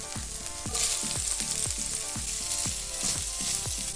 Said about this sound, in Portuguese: nessa mesma panela a gente vai dourar as outras verduras